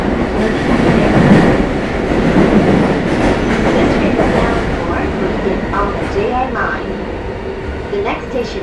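A Japanese E233 series 2000 subseries commuter train rolling along the Joban through-service line, a loud steady rumble of wheels and motor with clattering rail joints and faint squeals, the roar easing slightly toward the end.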